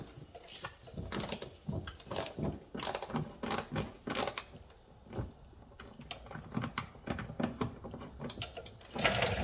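A screwdriver bit turns a mud flap screw on a Kia Soul EX, making a steady stream of close mechanical clicking and whirring that repeats without a break for several seconds.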